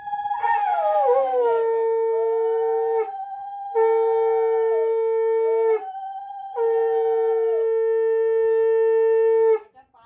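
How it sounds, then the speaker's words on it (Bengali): A conch shell blown in long, loud, sustained blasts at a home Bhai Phonta celebration: one wavering opening note, then three steady held tones separated by short breaths, close and dominant. "উনি একটু শঙ্খ বাজিয়ে দে"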